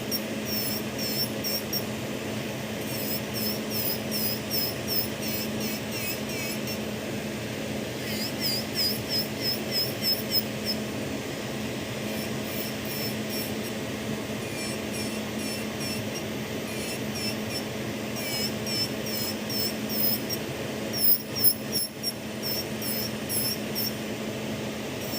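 An electric nail file drill runs during an acrylic full nail set, its thin high whine coming in repeated short bursts over a steady background hum.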